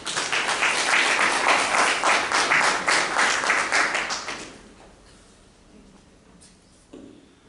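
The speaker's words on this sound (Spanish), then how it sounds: "un fuerte aplauso" Strong audience applause rings out at a centenary tribute event for Sebastián Salazar Bondy, a dense wave of clapping for about four seconds that fades into quiet room noise, with a faint voice afterward.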